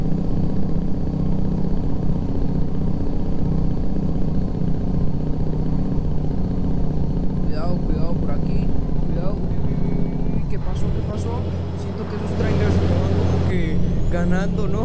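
Kenworth T880 semi hauling triple beer trailers in American Truck Simulator, its engine brake rumbling in a steady low drone with a shift in tone near the end, while someone speaks over it throughout.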